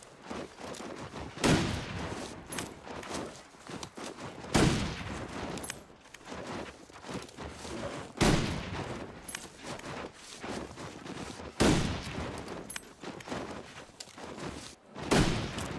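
Rifle gunfire in a video game: five loud, separate shots at a slow, regular pace about three to four seconds apart, each trailing off into echoing noise between blasts.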